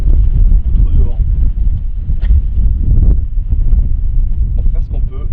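Strong wind buffets the microphone at abandoned church ruins near a cliff edge, a steady loud low rumble with gusty swells throughout, while a voice talks briefly over it.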